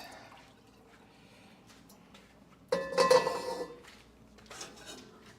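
Hot water dumped out of a kitchen pot or container, a sudden splashing pour at mid-clip with clinks of metal cookware, then trailing drips and a faint later rattle, close and fairly loud, with no talk.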